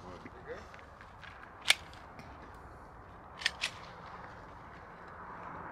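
Gunshots crack outdoors, a single sharp report near two seconds and then a close pair of shots a couple of seconds later, loud and abrupt over a low background murmur.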